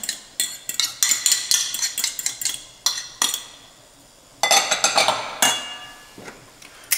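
A utensil clinks and scrapes rapidly against a bowl while Nockerl dough with egg and sour cream is stirred, in quick uneven bursts with a short pause midway, alone without speech.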